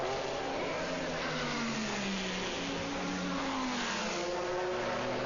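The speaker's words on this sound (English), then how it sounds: "A long time to restart the Ferrari by Gunther Blielinger, but eventually it gets going again" Ferrari GT race car engine during the 2001 FIA GT Super Pole race at Zolder, a continuous droning roar with rising and falling revs, steady and fairly distant, with no talk.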